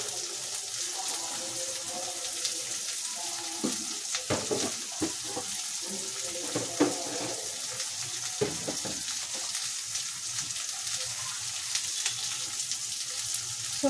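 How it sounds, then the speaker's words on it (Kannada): Ginger garlic paste frying in a pan for a corn capsicum masala, a steady soft sizzle with scattered scraping and clinking of a spoon, no talking. "ಚೆನ್ನಾಗಿ ಫ್ರೈ ಆಗಲಿ. ಬೆಳ್ಳುಳ್ಳಿ ಶುಂಠಿ ಪೇಸ್ಟ್ ಹಾಕೊಳ್ಳಿ, ಒಂದು ಅರ್ಧ ಸ್ಪೂನಷ್ಟು."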